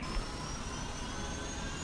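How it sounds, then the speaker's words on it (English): Steady jet engine whine in the Infinite Flight flight simulator game, a broad continuous roar with a thin high tone above it, even and unbroken, with no talking. "Now here's how the engines sound in Infinite Flight."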